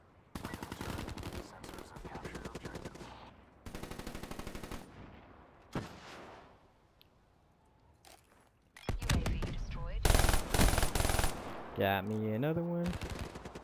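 Rapid automatic gunfire rattles in the Call of Duty Black Ops 3 video game, with several sustained bursts and a loud stretch of fire near the end, while someone talks briefly over it.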